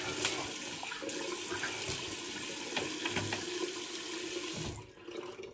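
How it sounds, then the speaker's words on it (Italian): Running tap water splashes steadily in a bathroom sink during a face rinse after a shave, moderately close, then cuts off near the end. "Risciacquiamo il viso."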